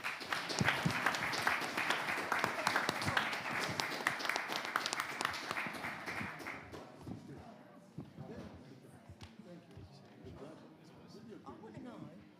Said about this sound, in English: If I could ask the audience to give a big round of applause.